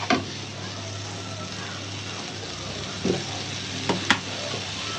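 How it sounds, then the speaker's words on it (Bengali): Spices and ginger-garlic paste fry in a pan with a constant low sizzle and hiss, broken by a few sharp clinks and scrapes of stirring, close and fairly loud. "আদা রসুন বাটা, মশলা সুন্দর করে কষাই"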